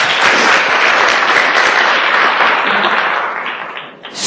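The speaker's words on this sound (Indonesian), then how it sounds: "Aplaus lah buat Anda semuanya." An audience at a networking seminar breaks into dense, sustained applause, many hands clapping loudly and steadily before tapering off near the end.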